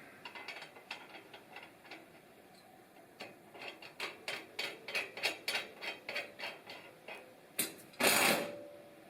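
A nut being threaded and tightened onto an axle over a washer on a DIY EMT-and-plywood utility cart, giving a steady run of close, crisp ratcheting clicks that ends in a louder burst of rattle.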